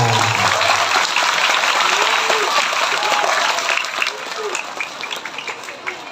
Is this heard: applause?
yes